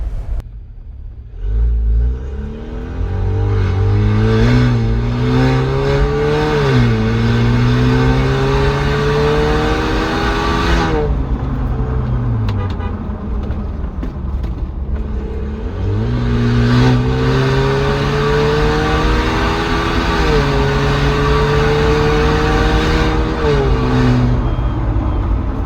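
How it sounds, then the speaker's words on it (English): A Jeep Wrangler Rubicon with a Stage-2 tune and an upgraded exhaust accelerates hard. Loud, close engine revs climb through several gear changes across two separate pulls, with a brief lift between them. "let's see how this car is going to perform with the Stage-2 tune and the exhaust note as well on the drive"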